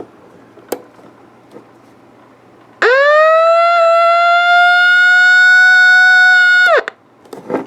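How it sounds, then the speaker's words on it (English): A weather radio sounds its alert siren: a loud, steady, high-pitched electronic wail that holds for about four seconds and then stops abruptly, with a few soft clicks and handling sounds before and after. "It's got a siren like this one, except it stops instantly."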